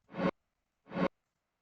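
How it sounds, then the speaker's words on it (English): Two short bursts of a broadband, breathy sound sit well apart, each cutting off abruptly. Fast left-right panning automation on a tech house element gives them a choppy stutter, with silence in between. "So then you get that kind of stutter effect."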